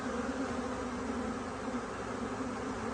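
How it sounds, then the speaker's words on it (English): Honeybees buzz steadily in a continuous, even drone while fanning at a new hive, the hum close and unbroken throughout. "See his abdomen in the air, he's fanning."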